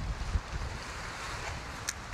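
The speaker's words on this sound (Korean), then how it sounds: "와, 바람." Strong wind buffets the microphone at a seaside fishing spot in Busan, a constant low roar with faint surf beneath it, no voices.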